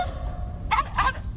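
A dog gives a couple of short, high yips or whimpers against a quiet background, brief and moderately close.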